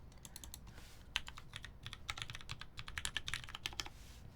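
Rapid computer keyboard typing with irregular clusters of clicky keystrokes, close and moderately loud, over a low steady background hum with no talking.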